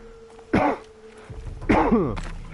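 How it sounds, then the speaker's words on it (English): Two harsh, throaty coughs close to the microphone, about a second apart, over a low background hum. "Getting a cough."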